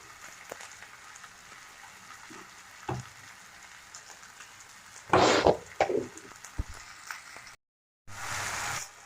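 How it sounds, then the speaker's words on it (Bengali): Tomatoes with salt are stirred in a hot pan: a faint, soft sizzle runs underneath a few louder scraping bursts from the stirring, then a brief silent gap. "টমেটো নুন দিয়ে কিছুক্ষণ নাড়াচাড়া করে"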